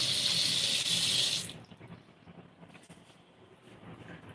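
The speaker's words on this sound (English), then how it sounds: "Let me turn this water on" A kitchen or bathroom tap runs with a steady, close hiss of water for over a second, then shuts off, leaving low background noise.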